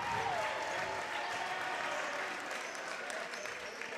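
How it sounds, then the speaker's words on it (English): Sustained applause from a crowd in a college men's basketball gym, Elmhurst College hosting North Central College in the closing moments, steady and dense throughout with a faint whistle-like tone early on. "One more chance for this crowd to rise to its feet and applaud these Blue Jays."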